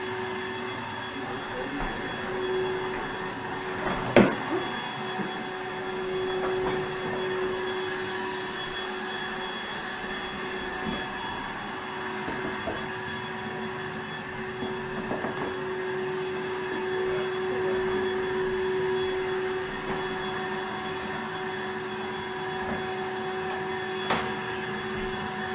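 A Rainbow cleaning system vacuum cleaner runs steadily with a constant motor whine and a few brief knocks and clicks, the tone holding level throughout.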